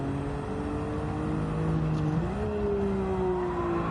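Nissan GTR R32 engine in a racing video game, a steady mid-level drone whose pitch holds and then climbs as the car accelerates, with no speech over it.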